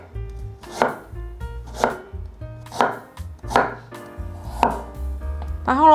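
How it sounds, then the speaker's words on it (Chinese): A knife slices a peeled carrot on a cutting board in about six crisp, evenly spaced chops, each a sharp close knock against the board with short quiet gaps between. "把红萝卜切片。"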